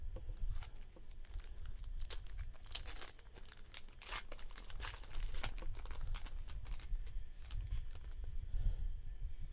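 Pack of football trading cards being torn open and handled, continuous crinkling and rustling of foil wrapper with sharp tearing snaps, close and fairly loud.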